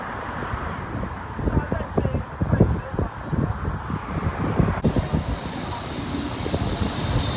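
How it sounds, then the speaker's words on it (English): A rumbling Blackpool tram rolls past close by, its rattling rhythm mixed with heavy gusts of wind buffeting the microphone. "Looks like we've got a tram coming."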